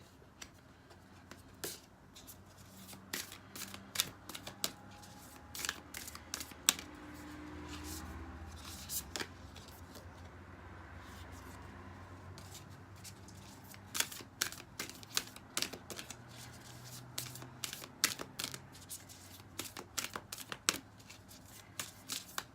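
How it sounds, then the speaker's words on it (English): Sticky tarot cards being shuffled by hand in repeated bursts of sharp riffling clicks and slaps, fairly close and moderately loud, with no talking. "these cards are really hard to shuffle this week."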